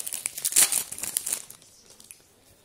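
A Champions League 2013/14 sticker-card packet is ripped open up close: a loud burst of crinkly foil crackling and tearing for about a second and a half, then only faint rustling.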